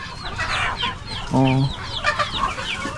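A rooster on a Philippine farm gives a short, loud crow mid-clip, with hens clucking around it and someone talking over the scene.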